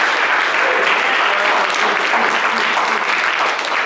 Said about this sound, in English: let's give another round of applause for our speakers